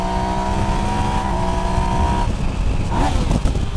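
A Yamaha Niken GT three-wheeled motorcycle's engine and exhaust hum steadily while riding, holding a tone and then shifting pitch as it changes gear, with wind noise close by.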